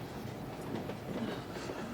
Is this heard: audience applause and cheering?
no